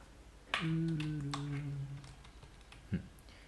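Typing on a computer keyboard in a class setting: a short run of soft, quiet key clicks and taps, with a brief tonal hum partway through and a louder knock near the end.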